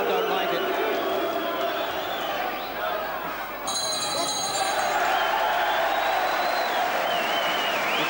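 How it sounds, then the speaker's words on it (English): A boxing match crowd roars and murmurs in disapproval through a dense, continuous din, with a commentator talking over the noise throughout. "but the crowd don't like it."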